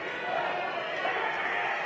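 A crowd at a corporate boxing fight on the Gold Coast roars and murmurs in reaction to a body punch, a steady moderate crowd swell heard under a commentator's voice.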